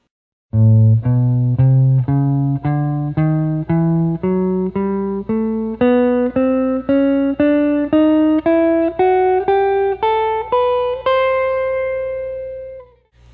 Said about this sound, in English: Then we're going to combine those and make a so-called hybrid scale,